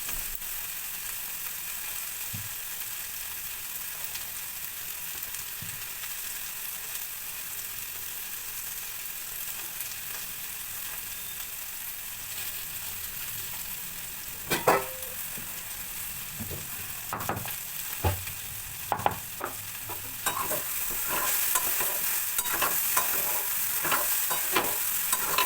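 Food stirred in a frying pan as pumpkin curry cooks, giving soft scraping strokes over a steady sizzle, with the stirring growing busier and more frequent toward the end; nobody speaks.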